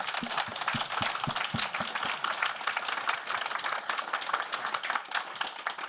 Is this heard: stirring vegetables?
no